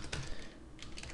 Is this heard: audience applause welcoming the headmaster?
no